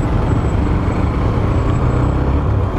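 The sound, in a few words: road traffic passing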